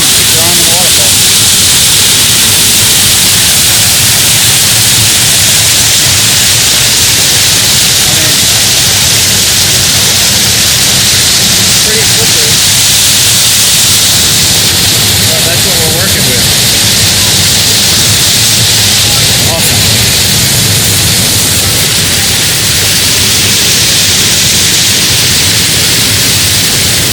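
A waterfall at Diana's Baths in New Hampshire's White Mountains gives a loud, close, constant rushing roar, with voices of people faintly beneath it.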